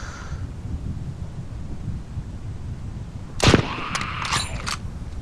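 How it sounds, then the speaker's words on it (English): Sniper rifle fired in the zombie video game ZombiU: one sharp loud shot with ringing echo roughly two-thirds through, after quiet ambient rumble, followed by a brief clattering reload. "This time I'm getting out the sniper's rifle."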